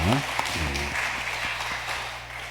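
A church congregation applauds to welcome visiting families during a Sunday service, a soft, even patter of many hands that follows a brief spoken voice at the start and fades slightly toward the end.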